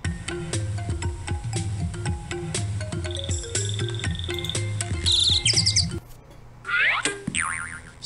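Cartoonish birds chirp and sing in the PC game Jumpstart Music, mimicking instrument voices; bright melodic tweets and boing-like notes ring over a rhythmic plucked backing track, loud and close.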